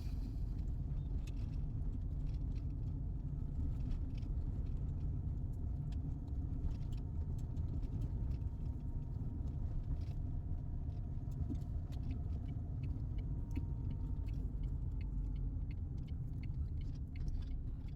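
Muffled, steady low rumble inside a Mahindra XUV500 driving on a potholed road, with occasional faint rattles and clicks and no talking.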